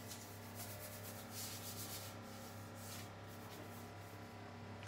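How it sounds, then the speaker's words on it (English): Parchment paper is smoothed by hand into a greased baking tin, producing a soft, steady rubbing and rustling close to the microphone under a low background hum. "So once you've greased the bottom, pop your piece of parchment in, smooth it right out to the edges."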